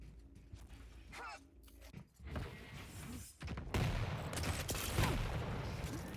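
Rocket fire in a Quake Pro League match, with a run of explosive bursts and mechanical clatter that grows louder and denser toward the end, set against faint game noise.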